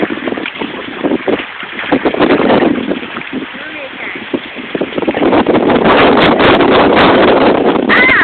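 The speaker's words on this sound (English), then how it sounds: "It's a little bit windy" Wind buffets the microphone beside a trout pond in a desert preserve, loud gusty rumbling rising and falling throughout.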